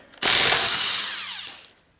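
A power tool spins out a wheel lug bolt on a Volvo S90/V90, producing one loud, close, steady whirring burst of about a second and a half that winds down quickly.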